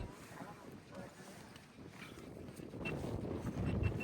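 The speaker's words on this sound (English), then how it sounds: "A little bit windy." Steady wind buffets the microphone at the top of Fort George with a rough, rumbling roar that swells louder toward the end; voices are faintly present underneath.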